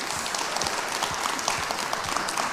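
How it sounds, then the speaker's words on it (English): A live crowd gives Ram Charan a steady, loud round of applause, with dense clapping filling the whole stretch. "a huge round of applause for Charan here"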